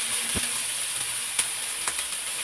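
Onions frying in hot oil for Filipino menudo give a constant bright hiss with a few soft ticks and pops, heard close and alone.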